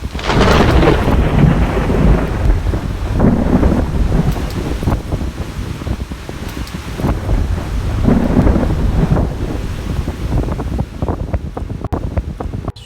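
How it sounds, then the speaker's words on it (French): A thunderstorm rolls in over hikers on the GR20 mountain trail. Deep thunder rumbles repeatedly under steady rain and heavy gusting wind buffeting the microphone, loud and continuous with no voices. "on voit l'orage arriver sur nous clairement, des éclairs, du vent."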